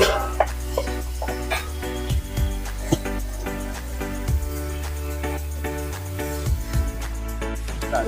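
Amadi fish going into a pan of cooked-down spice paste, giving soft clinks of utensils and faint sizzling and stirring with a few light knocks against a steady low background hum.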